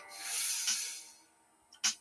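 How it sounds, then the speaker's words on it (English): Steady rasping rubbing of sandpaper across a small plastic part of a 1/144 scale Gundam model kit, one long stroke followed by a short pause and then a couple of quick scrapes. "I'm gonna have to sand that."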